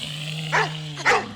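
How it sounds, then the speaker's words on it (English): A buzzer's recorded dog woof plays twice as a short muffled bark, the second louder, over a steady electronic hum on a quiz show set. "I'm not getting the dog woof."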